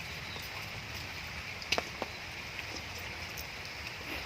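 Steady rain falls at a seafood cooking spot in Thailand, a constant close hiss with a few sharper drip or tap clicks, and no talk.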